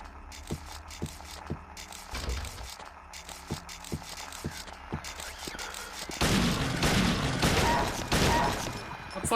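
Gunfire from the Silent Hill HD Collection game, sharp shots repeating at a steady rhythm over an eerie droning background, followed by a louder, denser burst of noise near the end, with no talking.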